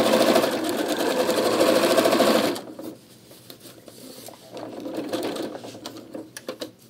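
A sewing machine stitches fabric for a cooking pot bag with a fast, even mechanical whir. It stops abruptly partway through, then quieter handling noises follow, with a few clicks at the end.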